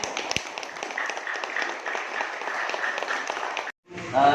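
Dense applause from pupils in a classroom, a continuous wash of many hands clapping at moderate distance that stops abruptly near the end before a voice resumes.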